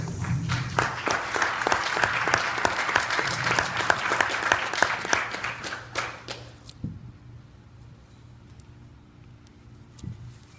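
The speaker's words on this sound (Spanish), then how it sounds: "Lo recibimos con un fuerte aplauso, por favor." Audience applause at a national arbitration congress, dense steady clapping for about six seconds that then tapers off, leaving a quiet room with a couple of faint knocks.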